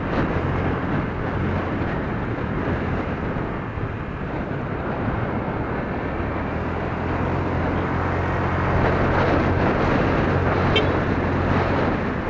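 A Honda Click 125i scooter's engine hums low and quiet while riding, mostly buried under a constant rush of wind across the microphone.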